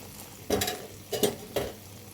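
Water poured into a pan of frying baila fish bhuna, three sharp bursts of loud sizzling hiss about half a second apart, each fading into a softer crackle between them.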